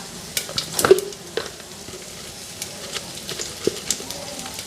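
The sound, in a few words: cumin seeds and dried red chillies frying in hot oil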